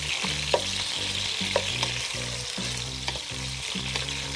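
A large tomato fries in a pan over low to medium flame for bhindi sabzi, a loud close sizzle with rhythmic spatula scrapes and stirring knocks repeating about every half second.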